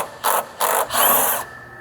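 A hand tool works an alternator bolt on a Pontiac Firebird, giving three raspy ratcheting bursts, two short and one longer, close up with brief pauses between.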